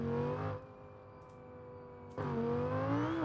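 Lamborghini Gallardo drag car in BeamNG.drive roaring with a steady high engine note, dropping to a lower drone before surging loud again; sharp exhaust pops are not clearly separable from the engine roar.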